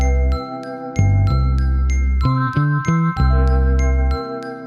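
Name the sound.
glockenspiel playing a simple arpeggio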